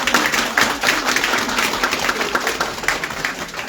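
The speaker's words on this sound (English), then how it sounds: "How about a round of applause for Sarah?" A small gathering at a family home dedication applauds a guest, with close, uneven clapping from a modest group that keeps up throughout without fading.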